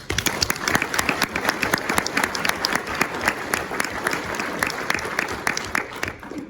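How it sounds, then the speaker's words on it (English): Conference audience at a public fire and life safety education event gives a big round of applause, loud sustained clapping from many hands with distinct sharp individual claps standing out, steady throughout. "Please give yourselves a big round of applause."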